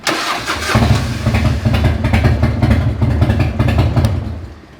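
A Harley-Davidson motorcycle engine cranks on its electric starter, catches within a second and settles into a loud, close, steady rumbling idle.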